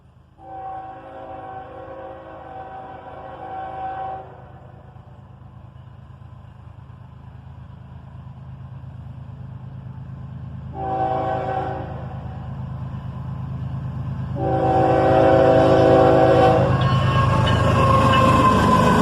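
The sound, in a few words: southbound manifest freight train led by ES-44 ACH and AC-44 CW locomotives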